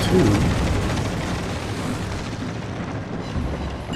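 Torpedo hits exploding on a battleship in the naval game World of Warships Legends, a heavy booming blast that rumbles and decays into a sustained low roar.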